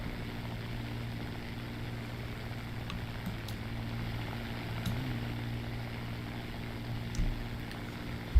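A Spitfire's piston engine droning steadily in War Thunder, a low, even propeller hum with a slight dip in pitch around the middle and faint clicks over it, fairly quiet and without speech.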